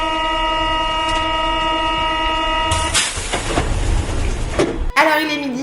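A metro train in a station gives a steady tonal hum and whine, then a louder rush and rumble as it moves, with a brief electronic chime and voices toward the end.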